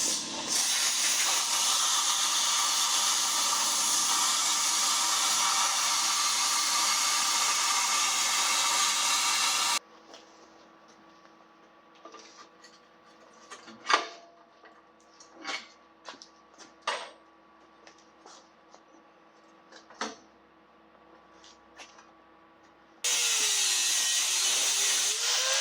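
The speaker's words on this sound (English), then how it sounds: "my next step now, though, is going to be to cut all of this off the top of the axle" Cutting old link brackets off the top of a Land Cruiser rear axle during a 4-link conversion: a loud, steady hissing cut for about ten seconds, then quiet scattered knocks and clanks, then the harsh hiss returns at the end.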